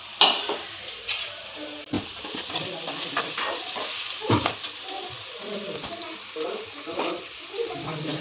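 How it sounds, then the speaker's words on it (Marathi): Finely chopped onions frying in hot oil in a home kitchen pan, a steady close sizzle and hiss with occasional stirring clinks, a voice faintly over it. "तर आपण बारीक केलेला जो आपले कांदे होते ते आपण तेलामध्ये छान प्रकारे परतून घेऊया।"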